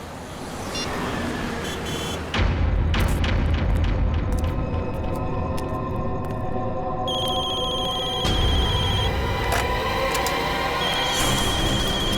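A telephone rings with an electronic tone over a loud, dense background of booming music and effects, continuous throughout.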